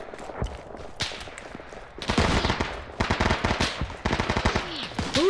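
Squad weapons firing in ArmA 3, with sharp repeated shots and bursts that start sparse and grow into dense, loud sustained volleys, no talk over them.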